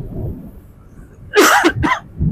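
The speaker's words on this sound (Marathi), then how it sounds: "खोकला पण लागलाय तुला जाऊन" A single harsh cough with a quick second burst, loud and close, heard during a motorcycle ride on a hot road toward Poladpur in the Konkan, with wind and engine rumble underneath.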